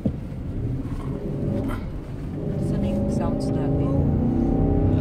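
A car drives through deep desert sand, its engine rumbling low and steady while the tires squeal in rising, drawn-out tones; people talk over the engine noise throughout.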